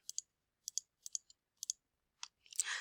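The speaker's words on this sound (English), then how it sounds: "I'm going to click math, enter, enter" Calculator buttons pressed in a quick series of crisp, close clicks, mostly in pairs with short pauses between, ending in a brief louder burst of noise.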